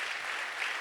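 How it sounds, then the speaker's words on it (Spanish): A church congregation applauds the Lord during a sermon, a dense, continuous clatter of many hands clapping together, filling the room evenly and fairly loud without a break. "Dale ese aplauso al Señor."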